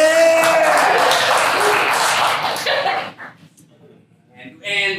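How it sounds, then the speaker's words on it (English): Audience at a short-form comedy show applauding loudly with cheers and voices mixed in for a few seconds, then the clapping fades out and a voice speaks. "Let's give them a round of applause"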